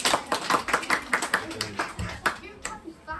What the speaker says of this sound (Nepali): ताली दिनुहोस् त भाइ लास्टको लागि.